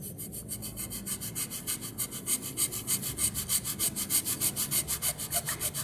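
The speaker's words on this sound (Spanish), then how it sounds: "vamos a colocar de esta manera nuestra jícara y vamos a comenzar a cortar con la segueta" A hacksaw cuts steadily through a dried gourd (jícara) being prepared for a craft piece, giving a rapid, even back-and-forth rasp of close, loud strokes throughout with no talk.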